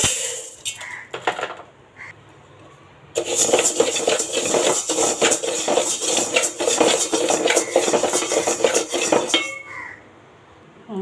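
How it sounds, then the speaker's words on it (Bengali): Rapid, continuous scraping and clattering of a utensil stirring rice grains frying in a metal pan, close by, starting after a few brief knocks and stopping abruptly. "আর এগুলো আমি একটু ভাজা নেব।"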